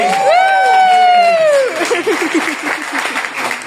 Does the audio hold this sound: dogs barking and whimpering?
no